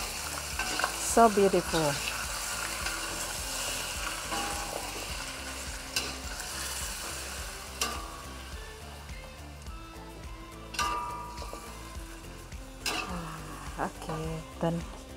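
Food sizzles and fries in a pan while a utensil stirs and scrapes in irregular knocks, close and steady, with someone speaking briefly over it.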